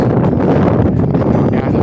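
Steady, loud wind gusting across the microphone in a continuous low rumble on a Mount Saint Helens ridge trail, with no voices and no breaks for the whole stretch.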